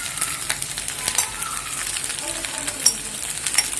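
Egg being scrambled and fried in a pan for bachelor-style egg fried rice: steady bright sizzling with scraping, tapping stir strokes of a spatula against the pan, close and continuous.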